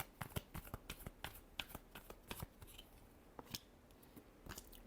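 Tarot cards shuffled by hand at a quiet reading, giving a run of quick papery riffles and soft slaps in an irregular rhythm, close and faint, with no talking.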